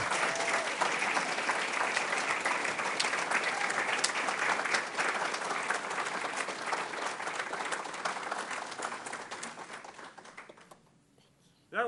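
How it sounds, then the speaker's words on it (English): A large audience applauds after a live song performance, a dense sustained wash of clapping that holds steady for about ten seconds, then thins and drops away near the end. "Give her another round of applause."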